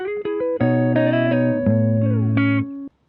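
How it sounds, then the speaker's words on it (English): A raw, unprocessed guitar plays a short melodic phrase of sustained chords and single notes, ringing clearly with little effect before stopping abruptly. "The guitar sounded like this straight out of the recording."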